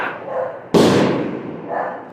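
A neighbor's dog gives a single loud, sharp bark that cuts abruptly into quieter background sound, close and prominent, with no talking over it.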